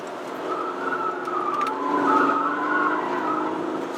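A VW Passat TDI diesel sedan corners hard in sport shift mode, tires scrubbing and squealing against the road over a steady engine and road roar that swells midway through the turn.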